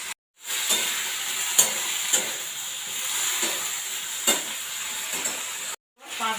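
Vegetables fry in a pan after salt goes in, a steady sizzling hiss with occasional scrapes of a spatula stirring, broken by brief gaps at the start and end; a voice is faintly present.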